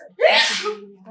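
A single loud sneeze bursts from a member of the audience at a talk, sharp and close-sounding, followed by a brief quieter exhale.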